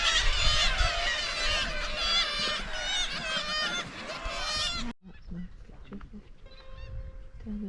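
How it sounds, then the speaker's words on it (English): Dense, loud chorus of harsh calls from gannets at a cliff-edge seabird colony fills the first five seconds, then drops to sparser, fainter calls with a voice briefly heard. "Just on the cliff edge there, they've got the gannets perched very precariously."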